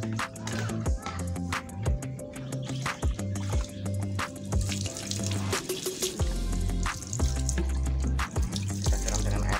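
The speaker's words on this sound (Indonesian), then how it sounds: "Kita siram dengan air yang mengalir seperti ini sahabat." Running tap water rinses rusty metal-detector finds, splashing and gurgling in an uneven stream close by, with intermittent clatter as the metal pieces are handled under the flow.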